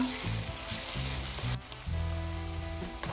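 Crushed green chillies sauté in a pan of pav bhaji masala, giving a steady close sizzle and fry with a brief dip midway, no voices.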